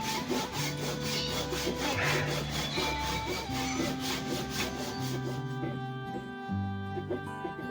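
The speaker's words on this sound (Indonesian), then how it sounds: "udah selesai untuk gergaji yang cross cut" A crosscut hand saw rasps through wood in steady back-and-forth strokes, close and crisp, each stroke marked by a rhythmic scratchy burst that keeps up throughout.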